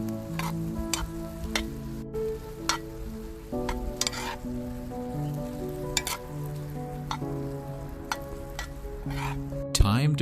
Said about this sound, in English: toss in the butter lettuce and drizzle in the last 2 tablespoons of olive oil